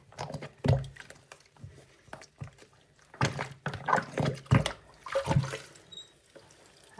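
Bleach water sloshes and splashes in a small kitchen container being cleaned, with irregular swishes and splashes that come and go, close by and moderately loud.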